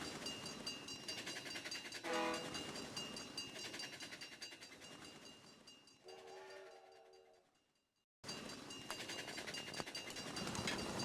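A synthesized train in a CD-i golf video game rumbles and clatters steadily, with a brief whistle blast early on and a horn-like tone midway before a short drop to near silence.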